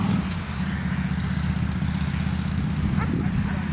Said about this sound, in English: Look, there's an army chopper right there.